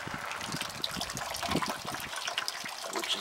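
Water drains through 5-1-1 potting mix in a container, a faint, continuous trickling and dribbling with soft splashy patter throughout.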